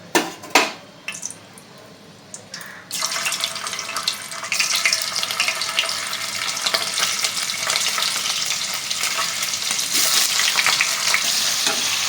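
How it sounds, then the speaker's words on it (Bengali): Steady, bright sizzle of paneer frying in hot oil, starting after a few soft clinks and growing into a dense continuous crackle. "এবার হালকা আছে পনিরগুলোকে ভেজে নিতে হবে।"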